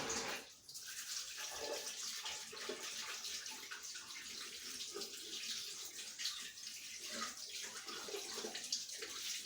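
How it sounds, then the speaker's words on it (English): Hands being washed under a running kitchen tap during home bread baking, a steady splashing rush of water with no voices. "Washing hands."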